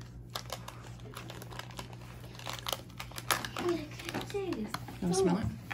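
A drink powder packet torn open with crisp crinkling and ripping bursts, while a child and an adult talk over it.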